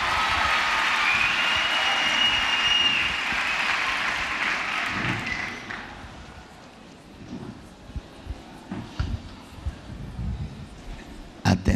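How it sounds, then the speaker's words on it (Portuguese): Audience applause fills a faith convention hall, a dense, loud wash of clapping for the first six seconds before thinning out into scattered claps and faint crowd noise. "Vamos dar uma salva de palmas."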